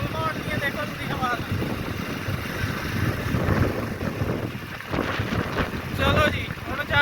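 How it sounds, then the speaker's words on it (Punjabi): Strong outdoor wind buffets the microphone in a loud, continuous low rumble that barely lets up, with faint talking underneath. "ਹਵਾ ਬਹੁਤ ਤੇਜ਼ ਆ"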